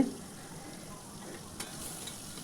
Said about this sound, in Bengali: আলুটাকে ভাজা ঢেকে দিয়ে নিয়ে একটু ভেজে নেব লাল করে।